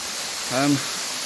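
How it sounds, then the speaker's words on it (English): From directly beneath Middle Black Clough waterfall, falling water makes a steady, close, full-bodied roar. A brief voice rises above it partway through. "Here we are, so I'm literally under the waterfall itself now."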